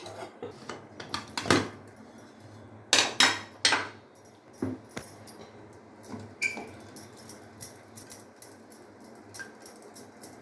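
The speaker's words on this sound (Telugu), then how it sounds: "పప్పు వేద్దాం మనం ఇప్పుడు." Toor dal is added to a pot of simmering cucumber sambar, with a series of close metallic clanks and knocks from a pot and utensils, some louder hits, then quieter taps.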